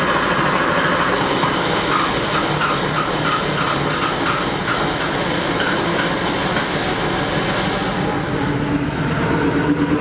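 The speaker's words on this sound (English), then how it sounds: "Let's go ahead and start the engine and see if the problem follows." Porsche 3.2 Carrera engine started after an injector swap, fuel having been drained, running with a steady dense rumble and mechanical clatter throughout, loud and close with no talk.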